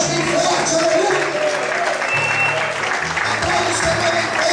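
A church congregation applauding loudly and continuously, clapping mixed with cheers while a preacher keeps speaking over it.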